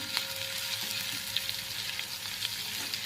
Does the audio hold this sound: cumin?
yes